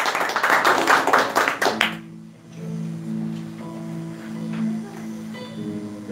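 A congregation at a home church service bursts into brisk, dense clapping for about two seconds, then it stops abruptly, leaving a quiet room with a faint sustained tone.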